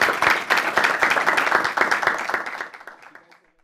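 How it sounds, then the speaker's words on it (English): Audience applause closing a research talk at Microsoft Research: brisk, full clapping from a roomful of listeners that stays strong for a few seconds, then thins and fades out to silence. "Let's give another round of applause."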